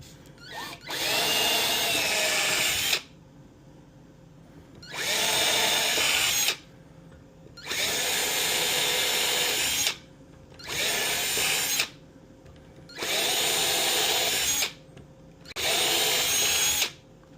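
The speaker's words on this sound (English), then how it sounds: "We're going to drill those out as well." A power drill drills out holes in a pinball kit part in six separate bursts of about two seconds each, with short quiet gaps between, loud and close.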